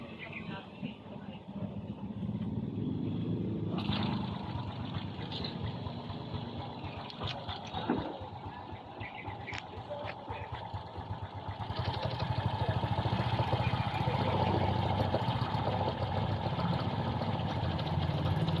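A Honda XRM 125 motorcycle with a carburetor hard-starting problem runs at a rough, uneven idle close by, its engine note shifting after a few seconds and growing louder and steadier later on.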